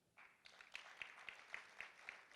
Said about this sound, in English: Let's keep applauding them.